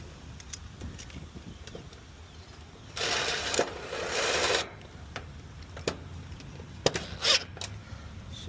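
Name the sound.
screws being screwed in to mount an AC capacitor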